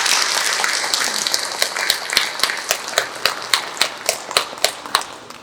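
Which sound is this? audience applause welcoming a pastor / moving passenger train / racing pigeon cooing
audience applause welcoming a pastor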